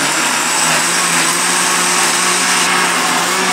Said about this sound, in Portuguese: Já se passaram os 2 minutos, eu desligo o liquidificador.